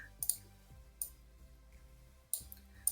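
Several sharp mouse clicks come in a sparse, irregular sequence, close and fairly quiet, while a program's pen tool and marker are being selected; no one talks over them.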